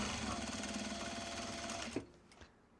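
Sewing machine running steadily while stitching Japanese fabric for a belt bag, a continuous close whir that stops abruptly near the end, followed by a couple of faint clicks.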